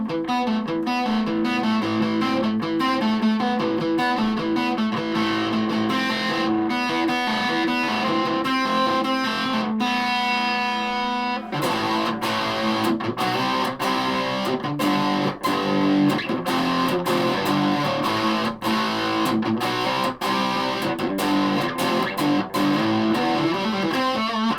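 Hohner Professional SR Devil electric guitar with EMG pickups played through a stack-in-a-box distortion pedal: loud, dense overdriven riffing and chords that run continuously, with a brief dip and a thicker section after it.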